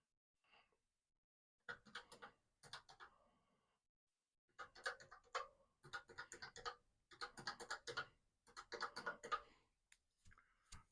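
Bursts of rapid, crisp key clicks from a Commodore PET's chiclet keyboard, typed in several separate runs with short pauses between them, close and clear, with no talking.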